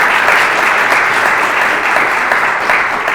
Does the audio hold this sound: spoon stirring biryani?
no